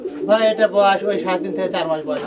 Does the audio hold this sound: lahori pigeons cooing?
yes